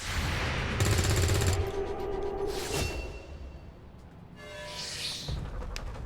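Gunfire in XCOM 2: War of the Chosen comes as several bursts of shots and impacts mixed with whooshing effects and a low background score, moderately loud over a steady game soundtrack.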